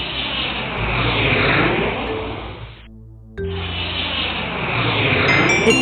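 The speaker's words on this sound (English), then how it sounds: "A jet plane flies up in the sky." Jet plane flying overhead, a loud broadband roar that swells and fades, cuts out briefly, then resumes as a steady whooshing rush.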